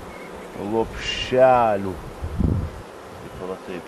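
Honeybees buzz around an open hive, a steady insect hum with brief louder swells as bees pass close, while a person speaks intermittently over the sound.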